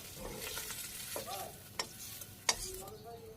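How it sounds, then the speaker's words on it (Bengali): Fried fish is lifted out of hot oil, leaving a soft, low sizzle with a couple of sharp clinks from a utensil and a faint tonal squeak nearby. "আমার সবগুলো মাছ ভাজি করা হয়ে গেল, নামিয়ে নিতেছি।"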